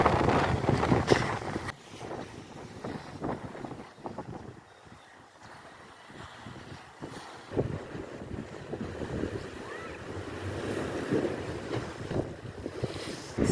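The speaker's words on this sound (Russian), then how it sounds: "очень сильный ветер. К вечеру он еще сильнее становится." Strong wind gusts buffet the microphone at the seashore, a roaring, uneven rumble rising and falling, with surf churning beneath; no voices.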